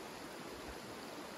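A small river flows in a faint, steady, even wash of water noise, distant and unbroken, with no voices.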